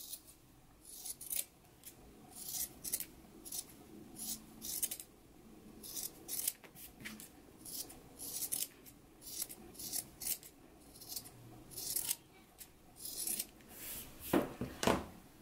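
Scissors snip close by through sewn fabric pocket flaps for a Simplicity 8889 garment, giving a steady run of crisp cuts roughly a second apart, with no talking.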